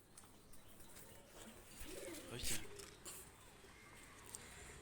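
Pigeons coo softly in a loft, with a short burst of calls and rustling wing movement near the middle. The sound is faint, with low voices in the background.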